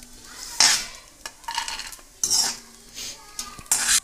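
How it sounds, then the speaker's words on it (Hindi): Cashews fry in hot ghee in a pan while being stirred, giving soft sizzling with several bursts of scraping and clinking from the spoon against the pan, fairly quiet and spaced out over a few seconds. "दो से 3 मिनट तक हम काजुओं को फ्राई करेंगे।"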